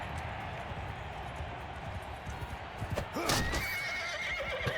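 A horse whinnies loudly in the video game Mount & Blade II: Bannerlord over a continuous background of hoofbeats and rumbling noise, the neigh rising sharply near the end.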